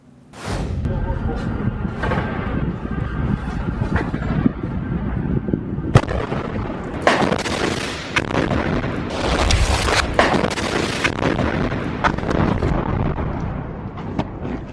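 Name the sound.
explosions and gunfire in Hamas footage of fighters attacking Israeli tanks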